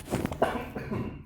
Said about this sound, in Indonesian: Lu kayak batuk sih.